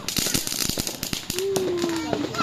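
Children's fireworks during a Hari Raya celebration crackle in a rapid burst of sharp pops, with a rising whistling firework streaking through the middle; voices are heard in the background.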